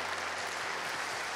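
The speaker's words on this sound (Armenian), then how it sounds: "եկեք բարձր ծափարենք, ուրախանանք" A church congregation applauding at a theatre event, dense steady clapping from many hands filling the room at a moderate distance.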